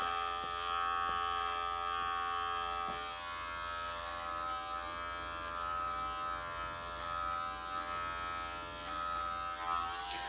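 Electric clippers buzz steadily and close by while trimming hair and beard at home, a continuous whirring hum with slight wavering as the blades move, with no one speaking.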